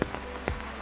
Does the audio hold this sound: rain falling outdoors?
yes